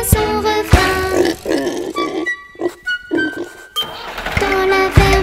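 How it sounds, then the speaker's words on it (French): Several short pig grunts and oinks come in bursts between musical notes, fairly loud and near. "il y a des centaines de cochons"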